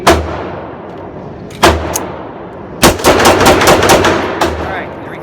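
A Taurus PT1911 pistol is fired in a torture test, using a faulty magazine. A loud single shot comes first, then another, then a rapid string of sharp reports close by, each followed by ringing echo.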